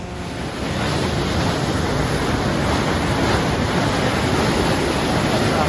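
A fast-flowing stream roars steadily and loudly, a dense continuous wash of flowing water with no voices.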